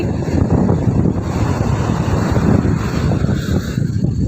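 Strong wind and rolling surf at Nagapattinam beach roar steadily and loudly, with heavy wind buffeting the microphone throughout and no voices.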